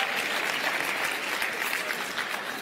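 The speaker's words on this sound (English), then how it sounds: "That's a courtesy clap." An audience gives polite applause at a Christian preaching event, a steady wash of many hands clapping alone, with no voices over it.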